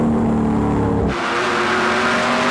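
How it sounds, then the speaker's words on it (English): Loud, high-pitched race car engines screaming past on track during the 2010 A&W Cruisin' The Dub 300, with a sudden shift in pitch and roar partway through as the cars blast by. "I can hear the motors real well there, Adam."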